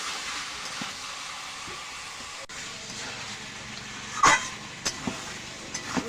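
Mutton with salt and turmeric sautés in a pan, giving a continuous loud steam-like hiss with a few sharp clanks and scrapes toward the end.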